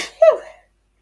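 A single close, sharp sneeze bursts out after a brief intake of breath and fades quickly into silence.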